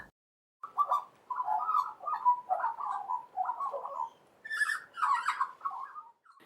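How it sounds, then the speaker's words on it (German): An Australian magpie calling alone and fairly close, with a run of warbling, gurgling phrases broken by short pauses and a higher, brighter burst near the end. "ihr habt nur was gehört an australische Soroke"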